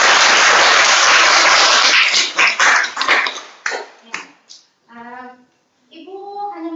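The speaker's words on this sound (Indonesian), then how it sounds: "Mari kita berikan apresiasi tepuk tangan untuk kelompok yang sudah berani maju ke depan" A class in a lesson applauds a group that has just presented, with loud, dense clapping that thins into a few scattered claps before a voice begins speaking.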